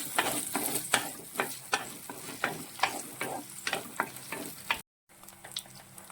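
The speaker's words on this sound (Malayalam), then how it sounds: "നമ്മൾ ഈ ഏത്തയ്ക്ക ഇതിലിട്ട് ഒന്ന് നന്നായിട്ട് വഴറ്റിയെടുക്കണം." Raw plantain is sautéed in ghee for kalan, with a soft sizzle under rhythmic scraping strokes of a spoon against the pan. The strokes repeat steadily, with a brief break near the end.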